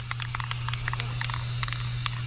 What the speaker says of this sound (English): now we're gonna spray paint this one